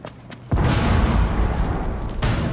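A grenade goes off in the Rainbow Six Siege match on the Presidential Plane map: one loud, close boom with a long rumbling tail, then a second burst near the end.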